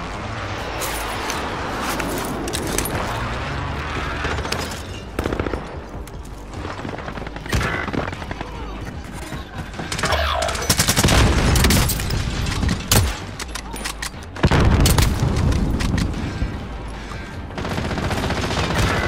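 Dense, loud gunfire from a Call of Duty Warzone match, with rapid automatic bursts and heavy booming shots crowding one another and continuing almost without a break.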